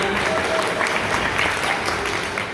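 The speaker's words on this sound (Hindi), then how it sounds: "राम के लिए एक बार जोर से ताली हो जाए।" Steady, dense clapping from a crowd at a worksite safety training session fills the whole stretch, loud and continuous without letting up.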